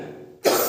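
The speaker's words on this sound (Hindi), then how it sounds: "बार बार आ रही खांसी" A single loud, abrupt cough bursts out after a brief quiet moment, close to the microphone, and its rough noise trails off.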